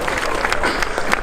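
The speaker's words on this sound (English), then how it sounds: "a big applause for Peter Sandström here" Applause for a prize winner at the Saab Car Museum Festival 2019 prize-giving ceremony, a brief steady patter of clapping from the crowd running under a speaking voice.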